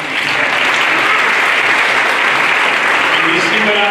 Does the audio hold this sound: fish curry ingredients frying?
no